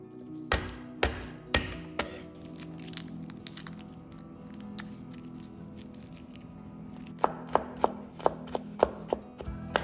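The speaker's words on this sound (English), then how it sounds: "Prepare a whole garlic and chop it." Knife chopping a whole garlic on a cutting board: sharp, quiet taps in uneven clusters, a few at the start and a faster run near the end, with a low hum underneath.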